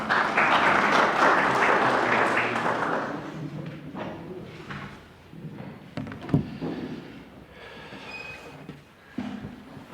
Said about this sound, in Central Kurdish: چەپڵەیەکی تون بۆ کاک قادری خۆشەویست